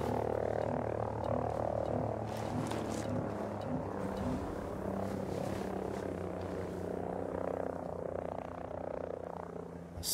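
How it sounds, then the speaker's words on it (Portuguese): A helicopter in a sniper video game flies overhead, producing a steady, fairly loud droning rotor hum with pulsing tones that holds through the whole passage. "Helicóptero."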